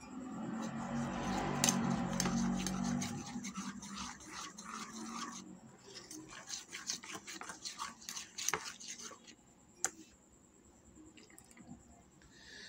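Gram flour (besan) batter being mixed with water in a bowl, wet squishing and stirring that is louder at first, then thins into scattered soft clicks and drips, close and quiet.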